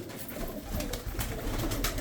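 Pigeons coo softly on a rooftop terrace, low repeated cooing calls at a moderate distance with steady background noise and no talk.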